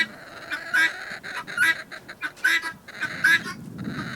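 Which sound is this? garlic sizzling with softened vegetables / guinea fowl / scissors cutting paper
guinea fowl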